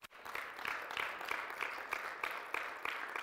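Congregation clapping at a church service during fasting and prayer, a steady rhythmic beat of many hands, roughly three claps per second, loud and continuous with no talking over it.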